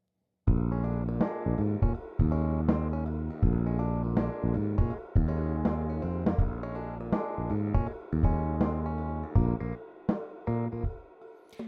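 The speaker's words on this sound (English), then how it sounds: "if we were to reduce the treble," A music track plays with its treble cut by an EQ filter, leaving a muffled, bass-heavy mix of steady rhythmic hits and sustained tones at moderate, even loudness with no talk.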